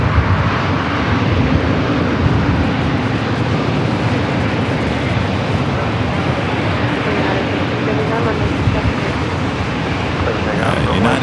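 A steady, loud roar of airliner jet engines fills the air at San Diego airport, continuous broadband rumble holding for the whole stretch with no break, a distant voice faintly present underneath.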